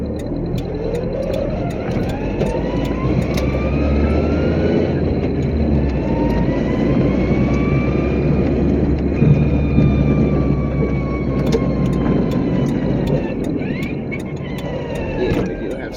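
A 1987 Toyota Tercel wagon with a failing transmission runs loud, a constant heavy drone with rising and falling whine and sharp ticks throughout, no talk.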